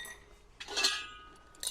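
Old metal kitchen utensils, small traditional plates and dishes, clink quietly as they are handled, a brief cluster of light metallic taps followed by another faint clink a moment later.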